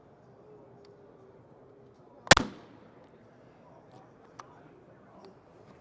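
A single sharp shot from a TenPoint TRX 515 crossbow, a loud sudden crack with a short decay, followed by a faint thump and light ticks in an otherwise quiet outdoor setting.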